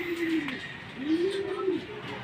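Racing pigeons cooing outdoors, a few soft rising-falling calls close by over light background noise, with a voice speaking faintly.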